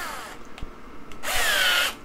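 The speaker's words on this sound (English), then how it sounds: "They say don't ever use a power tool to tap threads, but it's soft aluminum" A power drill drives a tap to cut threads in soft aluminum, giving a short whir, a pause with a few light clicks, then a louder, longer whine that stops abruptly, close by.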